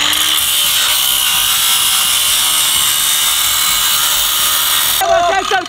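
A radial angle grinder cuts into a steel safe, a loud, continuous high-pitched screech that holds steady for about five seconds before abruptly stopping.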